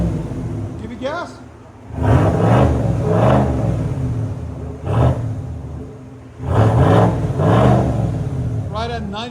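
A 2020 GMC Sierra AT4 pickup with a 6.2L V8 and Borla Atak exhaust revs in two loud, rising bursts, each holding briefly before dropping back, with short blips between and people talking over the engine.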